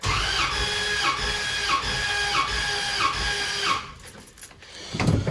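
An engine cranks during a compression test on a low battery, giving a steady, laboring whir with a rhythmic beat roughly every half second, then stops and leaves quieter shuffling sounds.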